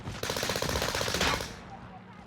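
Rapid automatic gunfire from a scoped weapon in Call of Duty Warzone on the Caldera map, a dense burst of shots lasting just over a second before a short fading tail.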